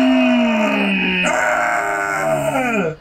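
A drawn-out dog howl from an anime episode, a single long wavering cry that bends upward and then slides down as it fades, loud and close with no talk over it.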